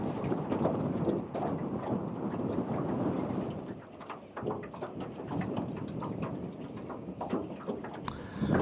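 Wind gusts across the microphone on a saltwater creek at Sunset Beach, North Carolina, rumbling and rising and falling with a brief lull midway, heard from a small jon boat.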